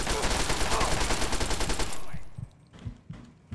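Gunfire from Fallout 3 rattles in a loud, dense burst of rapid shots for about two seconds, then gives way to a few sparse, fainter thumps.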